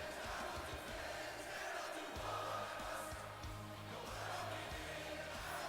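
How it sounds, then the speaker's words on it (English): Steady roar of an arena crowd at a King of the Ring wrestling event in WWE 2K18, continuous and fairly faint, with scattered thumps and no clear talk. "Just listen to this crowd."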